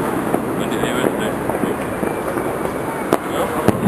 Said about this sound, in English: Pretty misty here, so the fireworks are not so great as last year